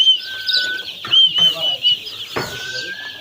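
Baby chicks in a poultry brooder peep continuously in high, overlapping calls, with a few louder chirps near the front and faint voices underneath.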